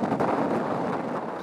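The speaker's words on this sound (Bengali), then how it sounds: "ঝড়ো বাতাসের সাথে ভারী বৃষ্টিতে বিপাকে সবাই।" Stormy gusts from Cyclone Remal on the coast, wind buffeting a microphone in a loud rumbling rush that swells and fades over a short moment, with no voice present.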